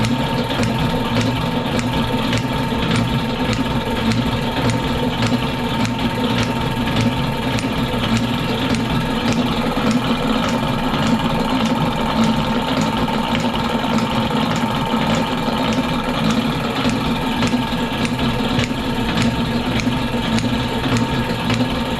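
A Lewis metal shaper runs with its table advance mechanism bound up, giving a steady mechanical drone with a fast, regular clacking rhythm that continues evenly and loudly with no talking.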